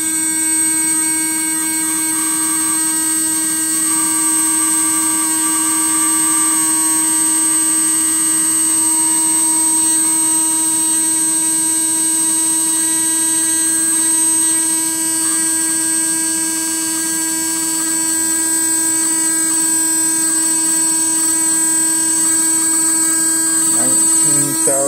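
A MagSpinner 1.2 pulse motor spins at roughly 19,500 RPM with a steady, loud, high-pitched whine and buzz that holds for the whole stretch, with no talk over it.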